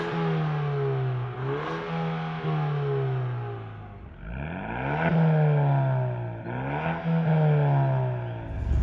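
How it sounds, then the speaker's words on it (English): A 2024 seventh-generation Ford Mustang with its performance exhaust in the loudest mode, revving hard outdoors; strong engine tones sweep up and down through several rises and drops, loud and close, with no speech. "all the sounds you're hearing from the yellow car is the performance exhaust in the loudest mode"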